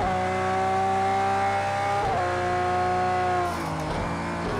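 Lamborghini Veneno in the Project CARS 2 racing game, all-wheel-drive drifting with a loud, sustained high-pitched engine whine that dips and recovers at gear shifts or throttle changes, alongside faint tire squeal.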